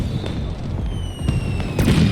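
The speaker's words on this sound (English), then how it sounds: "The fireworks were holograms." Holographic fireworks burst in the video game Beyond a Steel Sky, several muffled booms and pops at irregular intervals over a rumbling party backdrop, with the loudest burst near the end.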